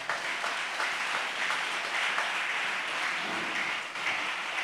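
A church congregation applauding and cheering during a sermon, steady broad clapping from a crowd filling the room for the whole stretch, with no speech over it.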